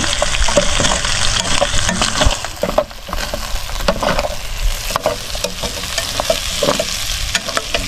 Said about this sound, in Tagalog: Mas gusto ko kasing ginigisa yung fish sauce, yung bagoong, para manunuot siya sa chicken.